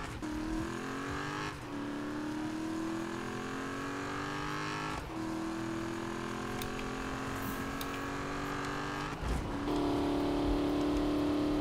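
Dodge Challenger engine in the racing game Need for Speed, a continuous engine drone climbing in pitch through each gear with brief breaks at the shifts, steady and moderately loud with no talk.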